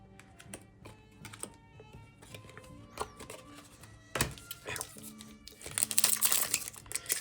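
Foil wrappers of Magic: The Gathering Bloomburrow booster packs crinkle and tear close by, in bursts of crisp crackling that build toward a louder rustle near the end, with no talking.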